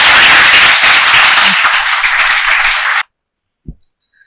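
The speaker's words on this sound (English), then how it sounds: "We welcome you once again with thunderous round of applause." Thunderous applause from a student audience at a lecture hall event, dense clapping filling the room for about three seconds before cutting off abruptly, followed by a couple of faint knocks.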